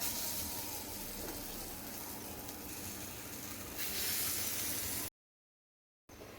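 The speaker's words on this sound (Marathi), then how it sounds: "आपण गरम आप्पे पात्रात तेल घालून घेतलं आहे. यामध्ये आता घालून घेऊयात आपण तयार केलेलं बॅटर" Batter poured into a hot, oiled appe pan for soybean cheese balls sizzles as a broad, steady hiss that swells louder near the end, breaks off into a second of silence, then resumes.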